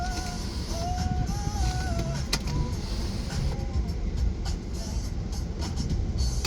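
A 2006 Porsche Cayenne sunroof opens with a whining electric motor that rises and shifts pitch in short steps, heard over a steady cabin hum at moderate level.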